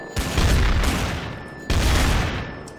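Gunfire in the game Trouble in Terrorist Town: two loud, dense bursts of rapid shots, each a heavy volley that decays before the next, with no talking.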